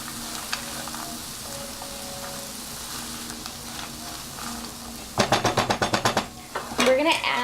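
Vegan chikn pot pie filling sizzles steadily in a pan while being stirred, then a burst of rapid scraping strokes and clatter of the utensil against the pan near the end.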